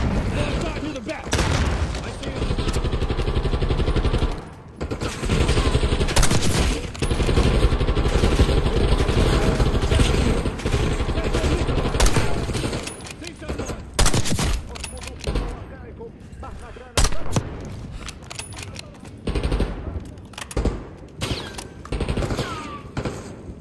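Sustained gunfire in Call of Duty: Black Ops 6, dense volleys of automatic shots and booms rolling almost without pause, loud and close, with players talking over the battle.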